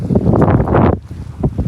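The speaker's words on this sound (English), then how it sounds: "The wind is just a hurricane." Strong gusty wind by the Volga River buffets the microphone in a loud, rough roar that drops off sharply near the end.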